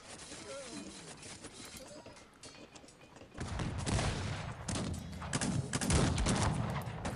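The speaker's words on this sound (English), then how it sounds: "Oh, enemy grenadiers are shooting back." Musket volleys from grenadiers in the game Cossacks 3 crackle as a dense fusillade, quieter at first and then swelling into loud, overlapping rapid shots during the second half of the clip.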